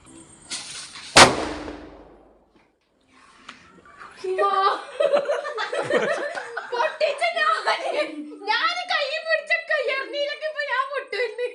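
A gundu firecracker goes off during night-time Eid celebrations: a single sharp, loud bang with a brief decay, followed after a short silence by people nearby laughing and talking.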